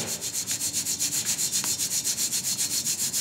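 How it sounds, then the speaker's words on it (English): Tsampa flour shaken through a sieve to remove sand, a steady rhythmic swishing rub repeating several times a second, close and even throughout. "It's gonna take a few tries of sifting to get out all that sand."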